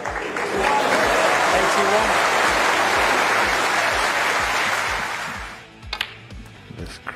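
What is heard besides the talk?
Crucible snooker crowd applauding a maximum break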